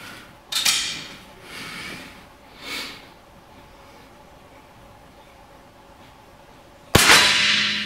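Sharp reports from a sport rifle rested on a car hood, one crisp shot early, a couple of softer thumps, then a loud second crack near the end with a ringing tail, outdoors with quiet gaps between.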